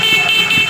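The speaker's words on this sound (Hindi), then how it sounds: "आप देखें हॉर्न किस तरह अच्छे तरीके से बज रहा है" A motorcycle horn powered by a small capacitor instead of a battery gives a single short, steady, bright electric beep, close and loud.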